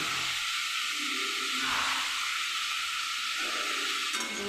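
Small pumpkin pieces frying in a pan with a little salt, a steady soft sizzling hiss that continues evenly throughout.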